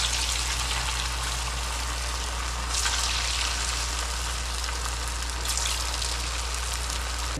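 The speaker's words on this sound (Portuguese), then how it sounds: "Na hora de fritar, a gordura tem que estar bem quente para não ficar encharcado." Mocotó dough frying in very hot fat, a loud, steady crackling sizzle that runs without a break, swelling briefly twice, and no voices.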